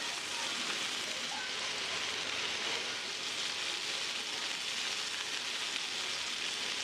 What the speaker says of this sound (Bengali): অল্প তেলে এগুলোকে আস্তে আস্তে ভেজে নিব